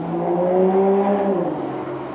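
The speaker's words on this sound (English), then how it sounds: "That was an Aston Martin." An Aston Martin sweeps past with a loud engine note that rises and then falls as it goes by, heard close up over steady road and motorcycle noise.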